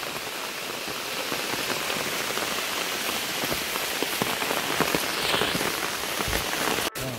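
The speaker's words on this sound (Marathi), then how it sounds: "आता पाऊस आलाय बघा." Rain pours steadily in a forest beside a hill fort, a dense, even patter and hiss filling the whole stretch, close and fairly loud, with no voices.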